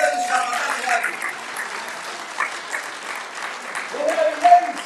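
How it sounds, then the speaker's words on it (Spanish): A church congregation applauds, giving a dense, continuous wash of clapping with voices mixed in and a swell near the end. "Denle un aplauso al Señor."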